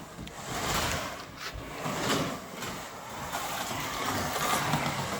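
A budget Scalextric beginner's slot car with magnet races around a track, a steady whirring motor and rolling hiss running continuously at moderate loudness without speech.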